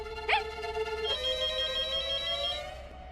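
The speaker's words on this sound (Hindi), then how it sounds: "अब मोबाइल के जमाने में घर के लैंडलाइन में कौन फोन करता है?" An electronic ring from a home landline telephone, a steady warbling tone heard once and then again, fairly close and alone with no talking.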